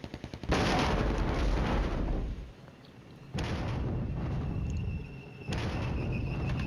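Artillery fire in the Flashpoint Campaigns: Red Storm wargame, three heavy booming salvos a couple of seconds apart, each a loud sustained blast with rolling rumble that fades before the next.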